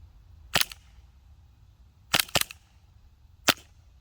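A CO2-powered Glock 19 Gen 5 blowback BB pistol firing in short bursts: one sharp crack, then a quick double tap, then another single shot, each snappy and close against a quiet background.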